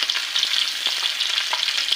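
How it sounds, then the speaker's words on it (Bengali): Potatoes frying in hot oil in a wok, a steady close crackling sizzle with the scrape of stirring running throughout, no voices. "নেড়ে চেড়ে ভাজা করে নেব।"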